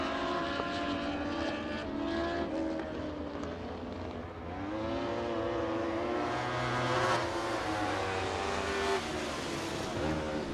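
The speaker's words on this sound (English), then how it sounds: "And that will do it for Dwarf car hot laps and qualifying." Dwarf cars circle 411 Motor Speedway on hot laps, several engines droning and revving together at a steady loud level, pitch sliding up and down as they pass.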